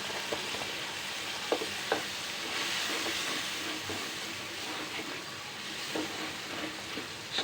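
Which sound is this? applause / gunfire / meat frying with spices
meat frying with spices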